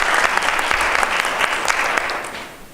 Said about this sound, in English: Why don't we give Grace a round of applause?